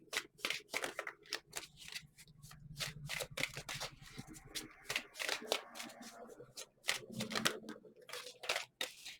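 Tarot cards being shuffled and drawn by hand, a run of crisp riffling flutters and sharp snapping slaps close to the mic, quick and irregular throughout, with no talk over them.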